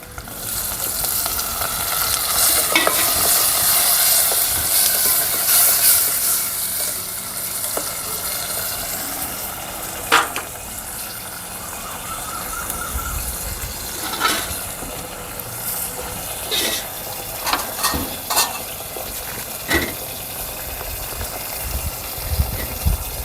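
Spices and tomatoes frying for a potato curry, a steady sizzle through the whole stretch with scattered clinks and stirring knocks from the pan.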